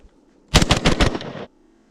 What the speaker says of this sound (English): let's just rail off like 5 rounds